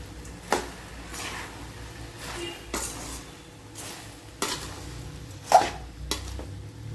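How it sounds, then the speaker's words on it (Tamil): Cooked rice stirred in a pot with curry leaves and coriander for dried-fish rice, giving a few sharp scraping clinks spaced over several seconds above a faint background, no talking. "ரெண்டு கொத்து கருவேப்பிலை கொஞ்சம் மல்லித்தலை இப்படி போட்டு சாப்பாடை கிளறி விட்டுற தான்"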